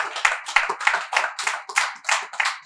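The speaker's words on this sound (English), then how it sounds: "we should give them a round of applause" A small group at a Nigerian youth and sports ministry event claps in distinct rhythmic bursts, roughly three or four pulses per second, close and dry, fading between each burst.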